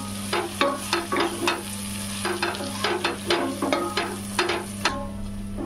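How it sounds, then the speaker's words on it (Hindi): Chicken bhuna masala roasting in a pan over medium heat, with a steady sizzle beneath a run of regular scraping stirs from a spoon, close and fairly loud, with no talking. "हमारा मसाला अच्छे से भून रहा है, ये देखिए।"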